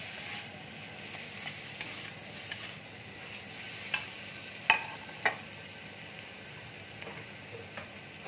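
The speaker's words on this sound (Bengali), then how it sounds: "দিয়ে আমি ভেজে নেব ভালো করে" Paneer fries in a pan with a quiet, steady sizzle. A few faint ticks and scrapes rise from the low background hiss.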